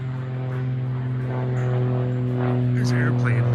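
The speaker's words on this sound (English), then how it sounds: "There's an airplane. There's an airport close by here." A small propeller airplane flies near a small municipal airport, giving a steady, droning engine hum at moderate distance. A few faint bird chirps sound briefly near the end.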